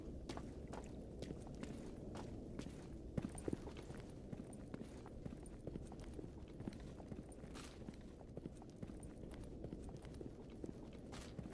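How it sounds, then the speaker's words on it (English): Soft, rapid enemy footsteps in the game GAMMA, a steady patter of quiet steps running through the whole stretch under a low, continuous rumble of background ambience. "Heard his footsteps, I don't know where the fuck he is."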